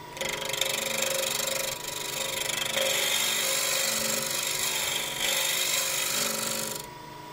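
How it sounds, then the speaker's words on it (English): A wood lathe takes light scraping cuts to true up the face of a turning. The close, steady whirring scrape runs for the whole stretch without pause or talk. "so this will be nice scraping cuts, about one third of the diameter."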